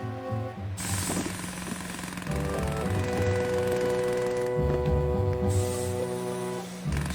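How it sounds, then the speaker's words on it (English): A small chisel digging in a Thomas & Friends cartoon makes a rapid, steady mechanical hammering sound effect, close and continuous, with a brief dip partway through. "Oliver changed over to his smallest chisel. This job called for delicate digging."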